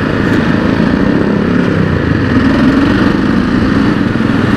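A TVS Apache RR 310 motorcycle engine runs steadily at low revs on a slow ride, a continuous rumbling drone with no talk, close and fairly loud throughout.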